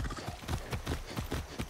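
Horse hooves clip-clopping in Far Cry 6 gameplay, a steady fast rhythm of hoof strikes at moderate volume, continuous across the moment with no talking.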